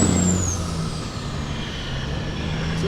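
Kenworth W900 truck pulling barriers, its engine roaring steadily under load with a loud, continuous rumble and a rising whine early on, close by and without talk.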